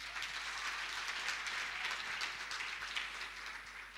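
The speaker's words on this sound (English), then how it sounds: "Now, another round of applause." Continuous crowd applause at a hotel anniversary celebration for a debate organisation, a dense, even wash of clapping that holds for several seconds at moderate distance.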